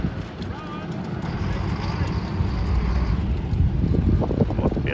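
Twin propeller engines of a vintage DC-3 airliner running at an airshow, a steady broad roar with rhythmic propeller pulsing, loud and outdoors with wind buffeting the microphone and faint voices underneath.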